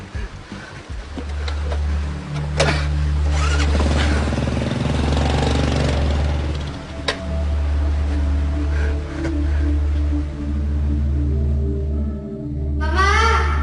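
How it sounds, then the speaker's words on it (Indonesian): An old, battered motorbike's engine catches and then settles into a loud, steady low drone close by, with slight rises and dips as it pulls away, ending with a brief rising whine. "Pergilah kamu dengan motor butut kamu itu."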